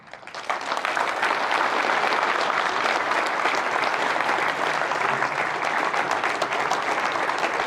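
A live talk's audience breaks into sustained applause, dense clapping swelling in within the first second and holding loud and steady to the end.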